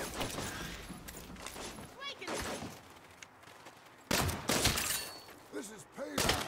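Heavy weapon fire from an Ouroboros cannon in Saints Row, with loud bursts of blasts and impacts in clusters separated by quieter gaps, alongside character voices talking and shouting.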